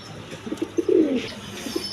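Red checker and giribaz pigeons at a farm coo nearby, starting with a few soft separate notes and swelling into one fuller rolling coo, then trailing off into quieter murmurs.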